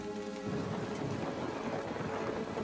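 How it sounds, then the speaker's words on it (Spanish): Thunderstorm with heavy rain and a deep rumble of thunder, set on a journey back to Erfurt; a steady, dense roar of rain fills the whole span after a brief tonal opening, with low thunder rolling underneath. "de pronto se vio atrapado en una espectacular tormenta eléctrica"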